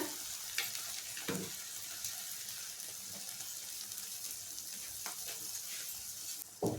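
A flipped mixed vegetable omelette fries quietly in a pan with an even, soft sizzle, broken by a few light taps and clicks of a spatula, heard close with no talking.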